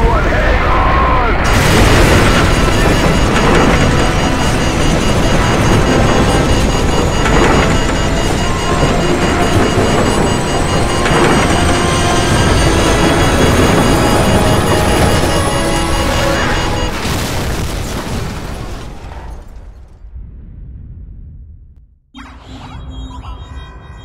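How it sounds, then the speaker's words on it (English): A massive nuclear detonation in Call of Duty 4: Modern Warfare rumbles loud and sustained for most of the clip, a dense roaring wall of sound that fades out near the end into near silence. "What appears to be an explosion of epic proportions"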